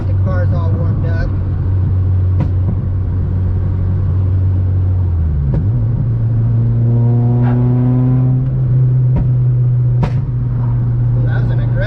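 A warmed-up Si car engine hums loudly, then revs up with the pitch climbing and sharp exhaust crackles and pops cutting through; a voice talks briefly over it.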